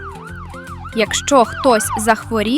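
An ambulance siren wails in a steady rising and falling cycle, loud and close throughout, while a voice talks over it for most of the clip.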